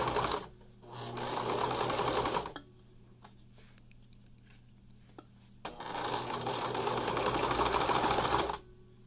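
A home sewing machine stitching a fabric 3D face mask, two loud bursts of rapid mechanical whirring separated by a quiet pause with faint handling clicks, no talking.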